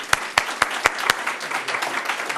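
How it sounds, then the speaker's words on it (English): A room applauds at a county swearing-in ceremony: several sharp, loud claps ring out near the start, then a softer, even patter of many hands carries on to the end. "we can give him a round of applause"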